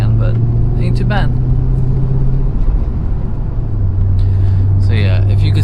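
Chevrolet C5 Corvette with a manual gearbox driving, its engine giving a steady low drone and road rumble from inside the cabin, with a voice talking over it.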